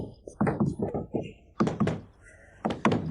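Knocking on a door, several rapid thumping raps in bursts separated by pauses, close and fairly loud, with speech-like energy mixed in.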